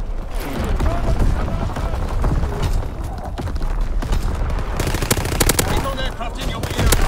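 Aircraft strafing runs in the Call of Duty: WWII game, with dense rapid gunfire and booms layered over a loud, chaotic battlefield. Sharp shot cracks cluster toward the end while distant voices sit under the din.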